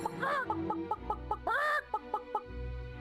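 Chickens cluck in the video game Fable, a rapid series of short clucks broken by two drawn-out squawking calls, fairly close and clear over a faint low background.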